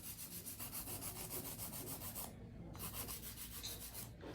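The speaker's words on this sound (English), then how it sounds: "So this would be a faster way for me to do hand filing." A 180 grit hand file scrapes across an acrylic nail in quick, even back-and-forth strokes, close and bright, with one brief pause partway through.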